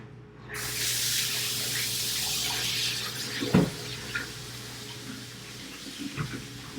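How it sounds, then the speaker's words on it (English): Water running from a kitchen tap to wash hands while making meatballs, a steady rushing stream starting abruptly and holding close and even, with a few knocks and clunks near the sink. "I've been doing a lot of washing my hands during this."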